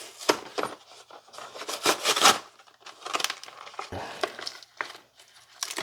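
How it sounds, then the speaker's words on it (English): Garbage disposal power cord kit being pulled from its box, close cardboard rubbing, scraping and crinkling packaging noises in irregular bursts. "Let's take the power cord kit out of the box."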